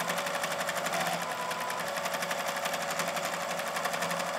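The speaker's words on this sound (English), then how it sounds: "So I'm going to go ahead and sew along here." A sewing machine stitches bias tape onto lace bunting triangles, running steadily and loud with a fast even mechanical chatter from start to finish and no pauses.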